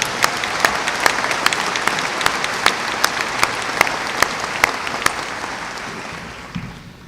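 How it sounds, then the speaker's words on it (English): A large crowd at a high school graduation ceremony applauds the senior choir, sustained clapping with distinct sharp claps standing out, fading gradually toward the close. "Let's have another round of applause for them"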